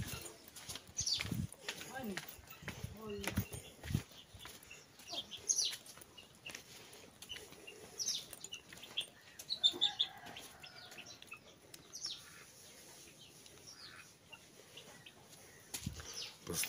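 Chickens cluck and chatter nearby in a steady, scattered flurry, with occasional wing flaps and a person speaking Russian over them.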